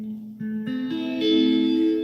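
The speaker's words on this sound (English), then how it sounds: "My clean tone is a phaser tone." A clean electric guitar through a Boss GM-800 and Headrush Flex Prime rig plays sustained chords with a swirling phaser effect and reverb, notes shifting up across two seconds, no voices.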